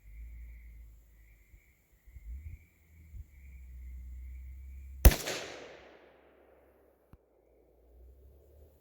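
A single sharp crack from a Savage 93G .22 Magnum rifle fires midway, followed by a short ringing decay, with faint low rumbling and scattered soft noises before and after.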